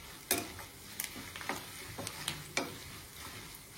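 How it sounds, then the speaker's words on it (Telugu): Tempering (talimpu) sizzles while frying in a pan, with a soft hiss of frying beneath sharp, irregular clinks and scrapes of a spoon stirring against the metal pan. "ఫ్రై అయిపోయిందండి తాలింపు."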